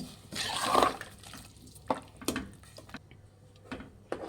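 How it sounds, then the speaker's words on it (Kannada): Water is poured into a mixer jar for bhindi sambar in a home kitchen: a short splashing pour up front, followed by a few light clinks and drips, fairly quiet with no talking. "ಇದೇ ಮಿಕ್ಸಿ ಜಾರಿಗೆ ನೀರು ಹಾಕ್ಕೊಳ್ಳೋಣ"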